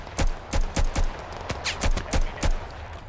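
Rapid bursts of gunfire from new weapons in the shooter game Total Conflict: Resistance, about eleven loud, evenly spaced shots cracking out over roughly three seconds.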